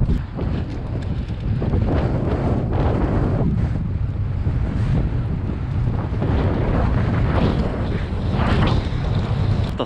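Strong storm-force wind buffets a mountain biker riding an urban freeride line on a Propain Tyee, a loud, continuous roar of gusts battering the microphone throughout.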